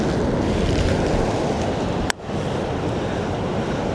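Strong wind blows on the coast at Whatipū, a steady, loud buffeting rush with surf-like noise, briefly cut by a sharp gust or handling knock midway.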